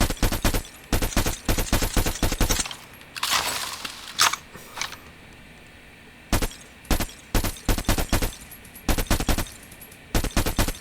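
Krig 6 assault rifle firing in Call of Duty, loud rapid bursts of automatic gunfire in repeated clusters separated by short pauses, with a quieter stretch of scattered impacts midway.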